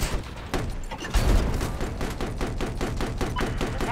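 Continuous rapid gunfire and booming thuds from tank combat in a video game on the community map Operation Outbreak, dense, loud and near, with rhythmic bursts layered over a rumbling background.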